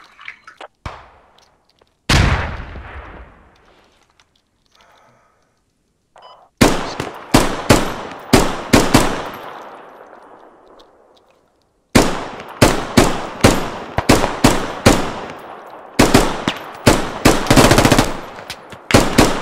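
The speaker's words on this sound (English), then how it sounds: "Take it off auto fire and shoot uh, single fire when it's far away." Automatic gunfire in a video game, loud close bursts of rapid rattling shots separated by pauses, with a few single cracks early on.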